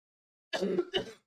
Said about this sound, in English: gotta get a good cough out first